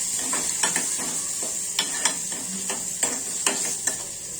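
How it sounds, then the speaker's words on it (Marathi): Garlic, chilli, peanut paste and chopped tomato sauté in a pan for palak paneer, a steady sizzle broken by sharp, evenly spaced taps and scrapes of a spatula, heard close with no voices. "ते व्यवस्थित परतून घ्यायचं आहे."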